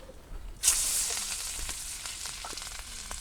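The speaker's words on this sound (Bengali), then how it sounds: "তেলও গরম হয়ে গেছে আর আমি মাছগুলো দিয়ে দিই" Hilsa fish pieces laid into hot oil in a village kitchen start a sudden loud sizzle that settles into a steady frying hiss with small pops, no talking.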